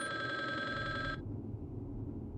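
A telephone rings in the PlayStation game Resident Evil: Survivor, its bright, steady electronic trill sounding loud over a low ambient game drone for about a second before cutting off, leaving only the dark background hum.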